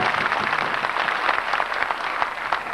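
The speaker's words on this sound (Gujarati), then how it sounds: "મિત્રો આ ખૂબ તાળીઓથી વધાવી લે છે" Audience applause welcoming artists at a Neelkanth Mahadev temple renovation event in Jagudan, Gujarat: dense, steady clapping from a crowd that carries on throughout.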